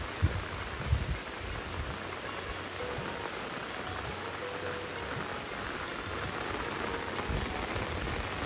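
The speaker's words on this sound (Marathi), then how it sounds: "पाऊस मजबूत आलाय" Heavy monsoon rain falls in a village, a constant close hiss with a couple of sharper drip knocks near the start, and no talking.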